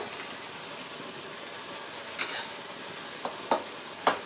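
Thai egg soup boiling in a pot, a quiet, continuous bubbling hiss with a few sharp clinks and pops toward the end.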